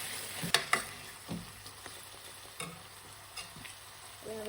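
Garlicky spinach paneer gravy being stirred in a pan, with a soft sizzle of frying and a few scraping clicks of the spoon against the pan, fairly close and quiet.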